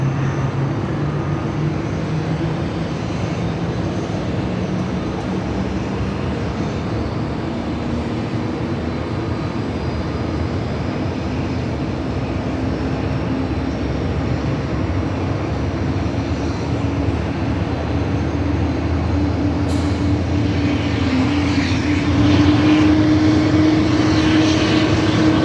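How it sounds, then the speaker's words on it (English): A Finnair Airbus A330 starts its engines at Sydney Airport, a loud continuous jet roar with a rising whine that grows steadily across the clip, heard from outside at a distance without talk. "Lovely sounds out of the Finnair A330 on startup."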